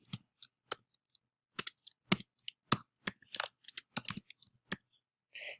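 Someone types on a computer keyboard, giving irregular, close, crisp key clicks in short bursts with small gaps between them, and no talking.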